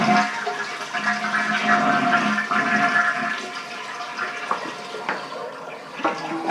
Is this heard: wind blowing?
no